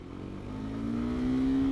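A 2019 Honda CBR 300R single-cylinder motorcycle engine holding a steady buzzing drone that climbs slightly in pitch as it revs, moderately loud with a rough background rumble.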